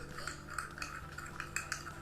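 Sticky detergent slime being stirred and mixed by hand, a steady wet scraping and squelching with a few brighter clinks, close and fairly quiet with no talking.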